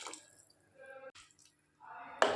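Water pours into a cooking pot for vegetable rice with beans and vegetables, a short, soft splashing trickle that comes in bursts between quiet gaps.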